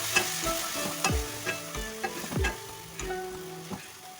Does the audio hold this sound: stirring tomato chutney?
yes